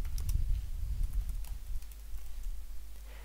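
Quiet, rapid clicking of keys on a computer keyboard, a short burst of typing close by with no voices.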